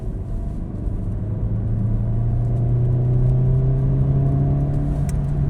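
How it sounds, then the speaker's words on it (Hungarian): An Alfa Romeo 147's engine hums steadily at close range, its low drone rising slightly in pitch as it revs gently. "Nagyon jó ez a motor, nagyon jó a hangja, de visszafogott."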